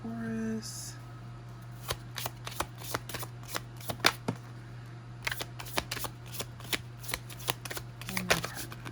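Tarot cards shuffled by hand in quick repeated riffles and soft slaps over a steady low electrical hum, close and fairly quiet, with a brief voice at the start.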